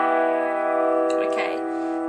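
A strange, dissonant piano chord rooted on E with two black notes is struck once and left ringing, sustaining as it slowly decays, with a brief vocal noise over the middle.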